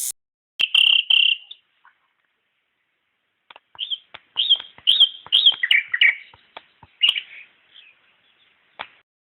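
A nightingale sings alone in short bright phrases of chirps, trills and whistled notes, separated by pauses, with clear, close, high-pitched bursts.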